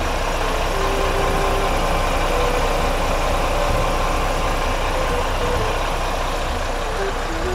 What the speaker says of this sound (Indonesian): Suara mesin Volvo B11R Euro 5.